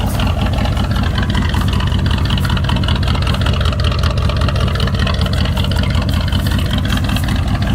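A Ford 460 V8 idles in a 1979 F-250 pickup, a steady, loud, low rumble that holds even with no change in rhythm from start to finish.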